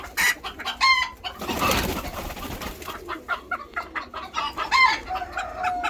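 Chickens cluck and squawk in quick bursts nearby, with a brief rustling flurry partway through, the clucking continuing steadily and fairly loud.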